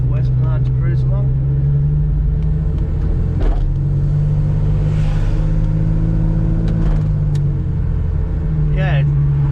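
A HEMI 6 VJ Charger with a 265 straight-six, triple Webers and a solid cam lumps along while cruising, its steady low engine drone constant and close throughout, with a voice talking over it and a brief louder surge midway.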